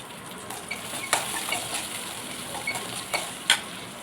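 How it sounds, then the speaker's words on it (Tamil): Onion and garlic sauté in a hot pan, a steady close sizzle broken by the scrape and tap of a spoon stirring against the metal several times. "இப்போ வாங்க வெங்காயத்தை நல்லா வதக்கிக்கலாம். அதோட சேர்த்து பூண்டும் சேர்த்து வதக்கிக்கலாம்."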